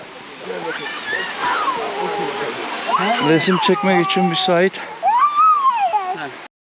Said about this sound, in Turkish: Şimdi ilk şelalenin üstüne geldim.